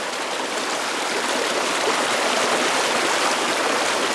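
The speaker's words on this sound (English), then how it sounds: "I wanna go see where the waterfall starts." A waterfall and flowing stream in the bush roar as a steady, loud rush of water that fills the whole clip without pause.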